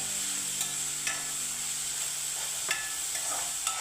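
Onion pieces frying and sizzling in a pan for a Mangalorean prawn curry, a steady hiss broken by a few sharp clinks and scrapes of stirring, with no talking.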